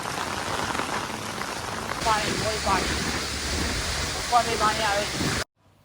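Heavy rain pours down steadily on a flooding village, a dense hiss of drops close by that thickens partway through and then cuts off abruptly at the end.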